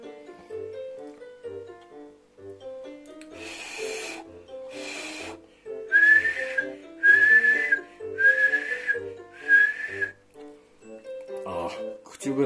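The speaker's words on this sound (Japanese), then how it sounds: "もう麺フーフーしてたら口笛なっちゃった。" Accidental whistling while blowing to cool hot ramen noodles: five clear, steady whistled tones each about a second long, close and fairly loud, following softer breathy blowing, with faint background sounds between.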